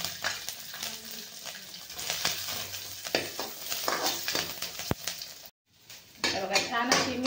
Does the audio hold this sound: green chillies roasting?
yes